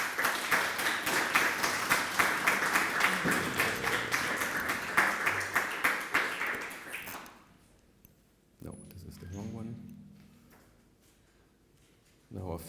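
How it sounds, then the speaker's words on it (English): Warm audience applause for a speaker at a talk, a crowd clapping steadily for several seconds before it fades out, followed by quiet rustling and a few faint voices. "So warm applause for Ute, please."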